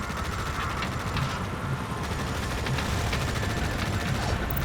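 Continuous rumbling battlefield fire in the war strategy game Tom Clancy's EndWar, with artillery and gunfire blending into a dense, steady roar without clear separate blasts.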